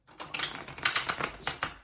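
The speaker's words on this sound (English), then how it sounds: "These cards are really bulky, so they're a little difficult to shuffle." Bulky tarot cards being shuffled by hand, a quick run of crisp riffling clicks and flutters in uneven bursts, close and moderately quiet with no talk.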